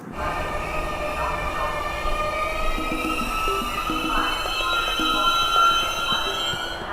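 Rumbling metro train in motion with clattering wheels and high whining, squealing tones from the rails, steady and fairly loud throughout.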